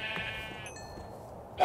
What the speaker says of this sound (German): Will die Schafe auch noch mitnehmen.